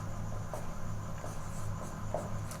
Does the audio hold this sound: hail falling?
no